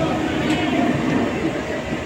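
The Howrah–Mokama Express 13029 rolls along the rails with a continuous, close, rumbling drone inside the carriage, and faint voices sit underneath the noise.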